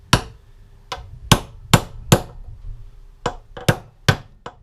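Metal strikes ring out as a Yamaha XS1100 motorcycle wheel bearing is hammered in with a socket, about ten sharp, close blows in two uneven bursts separated by a short pause.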